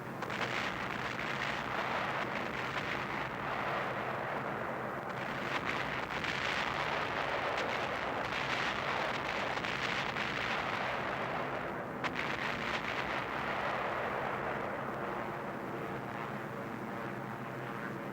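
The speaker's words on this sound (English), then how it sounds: "phosphorus bombs popping all over the place" Phosphorus bombs burst around a WWII bomber on its bombing run, heard as a continuous heavy roar of blasts and engine noise that stays loud and dense throughout with no pauses.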